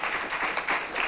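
Live audience applause for a young contestant on a televised kids' reality competition, a dense continuous wash of clapping held steady throughout.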